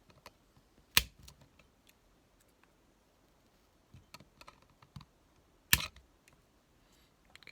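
Two sharp snips cut the coil legs on a Voltrove Mini V2 atomizer, with small scattered clicks and taps of tools around them, quiet and close.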